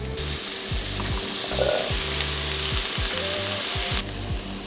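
Vegetables softened in a pan sizzle steadily as chickpeas go in, outdoors at a wooded campground, with a constant frying hiss and repeated low scraping or clunking sounds throughout.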